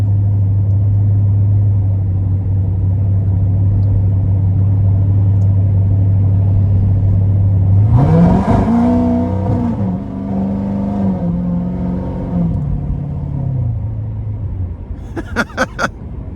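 An 850 hp Procharged 2016 Chevrolet Corvette Z51 3LT rumbles at a steady loud idle, then roars as it accelerates through rising and falling revs, ending in a few sharp bursts.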